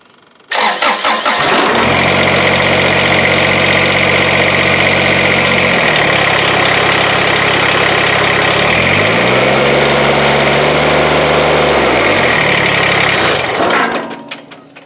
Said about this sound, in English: start it up and see if it's squealing before I go putting all the cover plastic back on